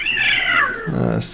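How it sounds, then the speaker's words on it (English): A cat meows once in a drawn-out, rising call near a microphone during a podcast conversation, with a voice speaking just before it. "that's a cat."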